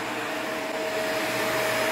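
An upright vacuum cleaner runs steadily and loudly at close range, a continuous motor whine with an even airflow roar and no breaks.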